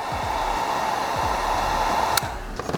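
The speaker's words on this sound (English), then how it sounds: "And now this piece, apply heat on the top" A heat gun blows steadily on chrome delete vinyl film on the front grille of a GMC Yukon, a constant close whooshing roar with a tonal hum, then a sharp click near the end and a few faint taps.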